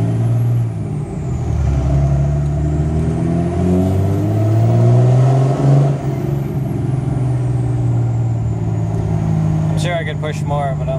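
A Cummins diesel truck engine pulls slowly up a hill in third gear, its loud, steady low drone rising and falling in pitch throughout, with a short hiss near the end.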